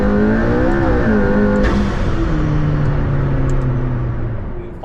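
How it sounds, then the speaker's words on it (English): A McLaren P1 hypercar's engine roars loud and close, then drops in pitch as the driver lifts off, with a sharp turbo blow-off whoosh before the revs settle into a steady drone. "on liftoff, you hear the blow-off of the turbo noises that this car makes"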